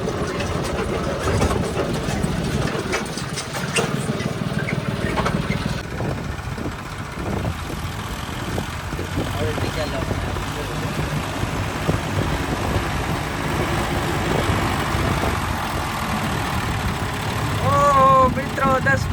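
Several tractors idle together at midday in a hot yard, a steady low engine rumble running throughout beneath people talking.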